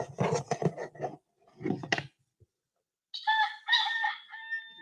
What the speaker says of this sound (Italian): Un gallo e così via,